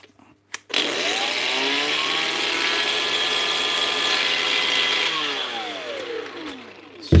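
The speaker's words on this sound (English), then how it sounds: "Everybody's favourite, the Makita grinder." A brushed Makita angle grinder runs continuously at high speed, a loud steady whine that spins up after a brief click and winds down near the end, with no talking.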